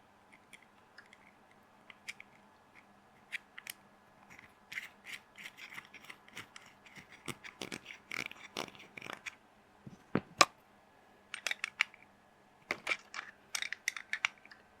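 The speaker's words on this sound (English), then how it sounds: "just before we solder, we'll put the nut on the front for the temperature control." A nut is fitted onto a soldering iron kit board for a temperature control, heard as quiet, scattered small metallic clicks, taps and rattles at close range, with no talking.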